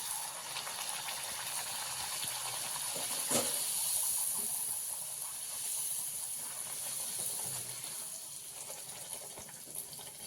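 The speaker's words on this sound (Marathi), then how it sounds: "तेल गरम झालेलं आहे तर मी तेलामध्ये सर्वप्रथम सोडून घेते" Spinach and beet puri dough dropped into hot oil, setting off a steady, bright sizzling hiss with a soft bubbling swell near the start, heard up close with no voices.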